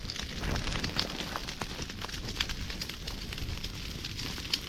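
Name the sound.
fire burning and crackling in a field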